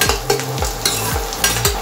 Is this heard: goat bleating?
no